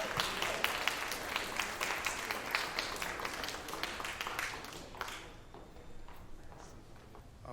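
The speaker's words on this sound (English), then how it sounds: "Please give a round of applause for him." Scattered clapping from an event audience welcoming Dr. E, distinct individual claps fairly close, thinning out and fading after about five seconds into quiet room noise.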